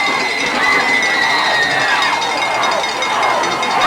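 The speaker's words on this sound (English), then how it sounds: "And you can hear the crowd. They were silenced for a little while, but they're back into it now." A crowd at a high school football playoff game cheers and shouts in a steady, loud roar, with faint voices mixed in.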